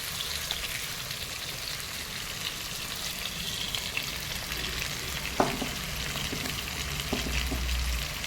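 Native country tomatoes sauté in a pan for Chettinad crab curry, an even, continuous sizzle with a few light spatula knocks near the end, no talking.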